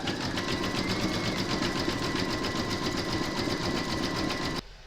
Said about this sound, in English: You're now going to pop your hoop into your machine and stitch round number 9, and that's going to zigzag along the raw edge here.